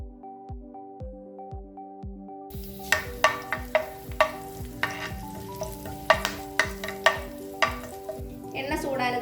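Curry leaves hit hot oil in a pan for a prawn fry, first a steady ticking rhythm of soft pops, then a burst of sharp crackling and spitting that keeps up loudly and close.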